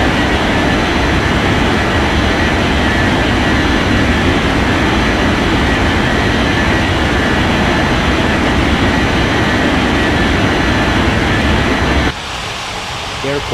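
An airliner engine roars steadily and loudly during takeoff in an air traffic control game, a dense continuous rush that holds for about twelve seconds before dropping away abruptly.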